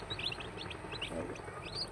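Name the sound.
chicken chicks chirping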